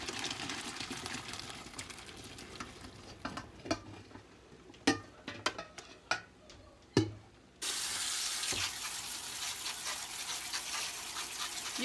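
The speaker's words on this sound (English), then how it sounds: "You just want to rinse off the starchy water" Boiled potatoes are drained in a kitchen sink with a few sharp knocks and clatters, then the tap opens into a loud, steady rush of rinsing water that continues to the end.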